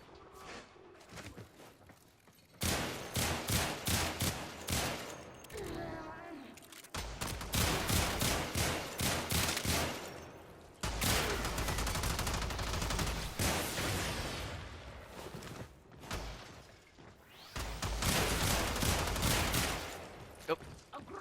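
Sicarus Prime pistol in the game Warframe fired in repeated bursts of rapid shots, loud and close, with short pauses between volleys.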